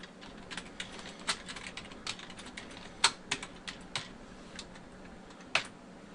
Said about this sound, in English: I'll go ahead and put in that password we set during the install prompt.